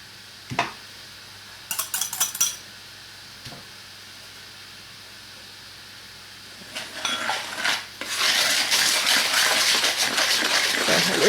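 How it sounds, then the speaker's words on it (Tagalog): Dry ingredients for sapin-sapin are mixed in a bowl: a few scattered clinks and scrapes at first, then a sustained rough stirring and scraping that grows loud near the end. "Paghalu-haluin lang muna natin yung mga dry ingredients."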